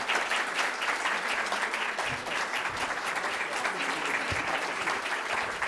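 An audience applauds after a congressional debate hosted by the Greater Manchester Chamber of Commerce, a steady, dense wash of clapping that continues evenly throughout.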